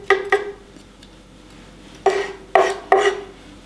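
A spoon scrapes seeds out of a halved cucumber, giving short raspy strokes: two quick scrapes, a pause, then three more, close and distinct.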